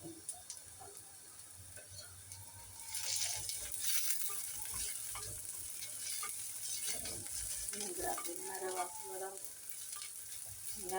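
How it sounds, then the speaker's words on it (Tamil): Ingredients sautéing in an earthenware clay pot: a continuous sizzle and crackle up close, louder from the middle onward, with light stirring scrapes and no speech. "மண் சட்டியில் அது சூப்பராக இருந்தது. ஓகே, வதங்கட்டும்."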